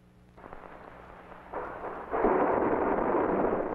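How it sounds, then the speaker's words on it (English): A Saturn V S-IVB rocket stage static test firing at the Sacramento test area roars distantly, starting as a low rumble and swelling into a broad, sustained thunderous blast. "the S-4B battleship firing test program continued during December, with successful firings varying from 10 seconds to 416 seconds in duration"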